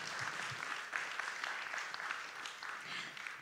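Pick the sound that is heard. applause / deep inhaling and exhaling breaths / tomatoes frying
applause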